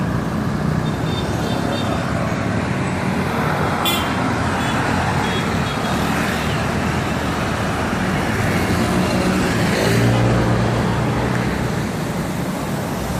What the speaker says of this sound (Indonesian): Ini bis ANS yang di terminal Pondok Pinang Lebak Bulus.